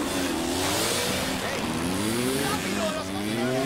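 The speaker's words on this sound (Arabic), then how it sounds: "موتور موتور موتور." A car engine revving steadily in the video game A Way Out, during a chase from Mexican soldiers, a loud continuous motor drone with shifting pitch, mixed with other game noise.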